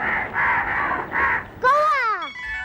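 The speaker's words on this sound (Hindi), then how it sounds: "कौवा।" A crow gives four quick, loud, harsh caws in a row. After a short pause a falling, squawking call follows, close and clear.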